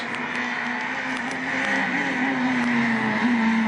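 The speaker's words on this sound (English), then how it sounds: "Amazing what you can do with a 4-wheel drive car." A four-wheel-drive rally car engine drones steadily and close on a stage, its pitch rising slightly as it pushes on, with faint tire noise over loose ground.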